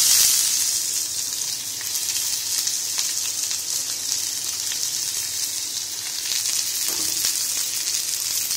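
Finely chopped onions with green chillies fry in hot oil in a pan, giving a steady, close, continuous sizzle and hiss with faint stirring scrapes throughout.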